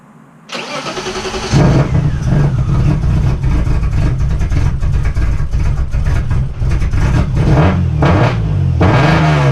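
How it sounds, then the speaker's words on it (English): A BMW E36 engine cranks and catches after a throttle adjustment, then runs loud and steady close by, with repeated revs rising and falling over the idle. "so the revving is a lot better"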